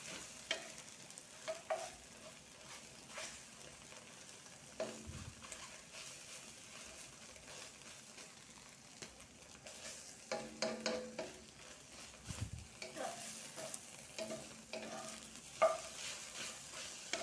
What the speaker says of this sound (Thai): วก็ผัดให้ไข่สุกเลยก็ได้นะทุกคน